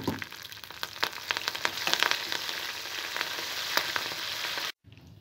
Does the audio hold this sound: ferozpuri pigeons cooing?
no